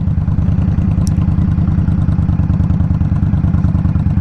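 A 2023 Indian Scout Rogue motorcycle with shorty exhausts idles loud and close, its engine giving a deep, rapid, evenly pulsing throb that runs steadily throughout with no talk.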